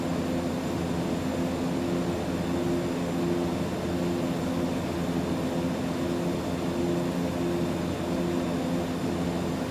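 Steady, droning hum of a King Air turboprop engine in X-Plane 12, constant and loud throughout with no talking over it.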